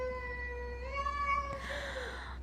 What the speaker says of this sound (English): I love kitties.